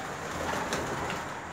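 Homing pigeons coo softly in a low, murmuring run of calls, faint and close, with a diffuse hiss behind them.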